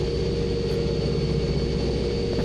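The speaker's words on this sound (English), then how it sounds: "I love the sound of those engines. It's kind of like jet turbines," Steady low engine drone in a video game, a constant turbine-like hum with a thin high whine on top, loud and unchanging, with no talk over it.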